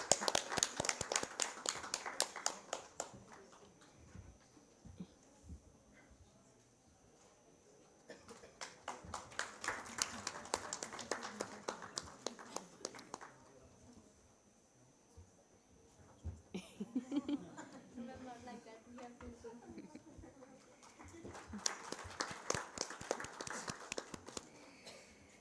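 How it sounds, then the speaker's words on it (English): A conference audience gives a panel round of applause in a hall, with waves of clapping that rise and fall several times and quieter gaps between them. "A huge round of applause."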